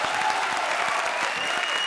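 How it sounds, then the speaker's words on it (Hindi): Studio audience applause at a comedy show, dense continuous clapping from a crowd, loud and steady for the whole stretch with no voices on top. "सिर्फ तालियां बजी ना"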